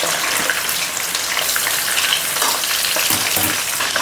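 Chicken pieces frying in hot oil for a spicy pickle, a dense, continuous sizzle and crackle close up, with faint stirring scrapes and no talking.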